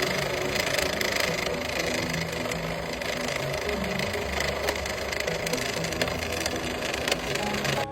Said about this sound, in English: Start the engine cold.